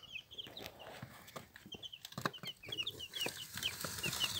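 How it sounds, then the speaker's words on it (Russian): Chicks peeping in a homemade cardboard-box brooder, many quick high chirps repeating in overlapping bursts, soft and close, with light rustling and handling sounds beneath. "Здесь уже цыплята."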